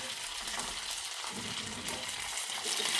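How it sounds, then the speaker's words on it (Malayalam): Mustard seeds, dried red chillies and curry leaves fried in hot oil are poured into a just-boiled Kerala-style taro (chembu) curry, giving a steady, close sizzle and crackle with a watery gush. "ഇത് കടുക്, വറ്റൽമുളക്, കറിവേപ്പില കൊണ്ടുള്ള ഒരു വറവ് ഇട്ട് കൊടുക്കാം."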